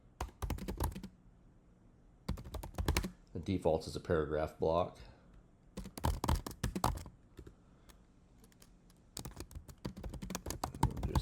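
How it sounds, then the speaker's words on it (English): Quick bursts of typing clatter on a nearby computer keyboard, pausing while a person speaks briefly, then resuming in rapid rhythmic runs. "You can also just start typing in now"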